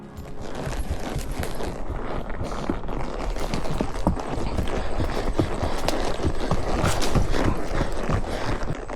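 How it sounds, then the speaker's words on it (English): Pony hooves clip-clop in a quick, dense patter on hard ground, close and fairly loud throughout, with a steady busy rhythm and no talking. "All right, Twitch, there's other horses."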